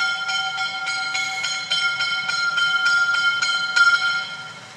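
Freight train 54214 departing in the Preßnitztal valley, heard as a steady, loud series of evenly spaced metallic clanks and ringing tones that carry on for several seconds with no talk.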